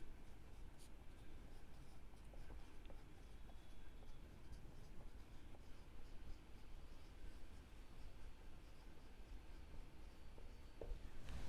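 Handwriting on paper during an accounts lesson: faint, steady pen strokes and scratches run throughout at low volume, with a few soft ticks and a light background hiss.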